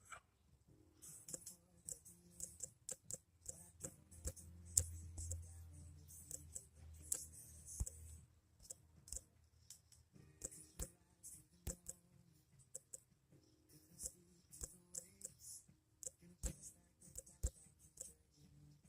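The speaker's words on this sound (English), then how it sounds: "I don't know if you can hear me or not, but I'm typing" Quiet, rapid taps of fingers typing on a phone screen, an irregular run of small sharp clicks close to the microphone, with a low hum and faint background noise.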